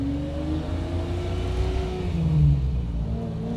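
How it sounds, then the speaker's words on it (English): A 1974 Jaguar E-Type Series III V12 engine hums and rises in pitch as it accelerates, a steady smooth drone heard from inside the car on a road test, with no voices. "Get to listen to that V12 a little more."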